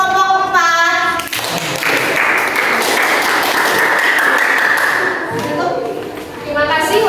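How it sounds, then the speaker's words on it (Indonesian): Students in a classroom clap for a group that has just presented, with a few seconds of brisk, fairly close group applause between stretches of a teacher talking. "tepuk tangan untuk kelompok 4"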